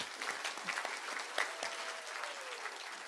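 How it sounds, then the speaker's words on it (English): An audience at a breakfast event on caregiver advice claps in warm, sustained applause, a steady patter of many hands filling the room for several seconds. "So let's give Nicole a round of applause."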